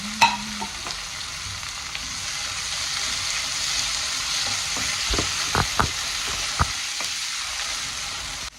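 Onions and chillies sauté in a hot pan for a home-cooked dish, sizzling steadily. A spoon stirs and scrapes the pan in a few sharp knocks toward the end, and no voices are heard.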